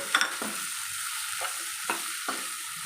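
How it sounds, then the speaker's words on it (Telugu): Pieces of dried anchovy fry in a pan for a fish curry, giving a steady close hiss. A handful of sharp scrapes and stirring clatters break through it, with nobody talking. "ఎంత బాగా వేగిపోయినాయో చూడండి ఫ్రెండ్స్."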